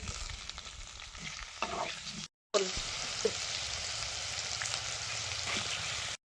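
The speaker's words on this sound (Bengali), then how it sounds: "প্রথমে মাংসের জন্য আলুটা ভেজে নেব।" Potatoes fry in oil in a clay pot, giving a steady close sizzle that runs throughout, broken by one brief silent gap and a few louder pops and stirring scrapes.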